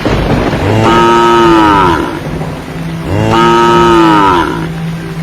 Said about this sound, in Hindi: रामू की ऐसी हालत देखकर कपिला जोर जोर से रंभाने लगी, मानो इस सुनसान तूफानी जंगल में किसी से मदद